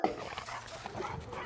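A shelter dog in a kennel whimpers and gives short yips, a busy, continuous stretch of canine vocalizing at close range with no talk over it.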